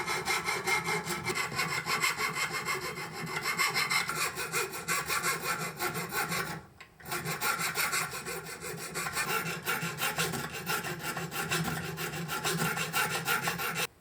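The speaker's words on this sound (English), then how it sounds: "now we can go forward and sharpen the serrations" Small file drawn back and forth over knife serrations held in a sharpening jig, a continuous close rasping scrape in rapid even strokes with one brief pause midway and no talking.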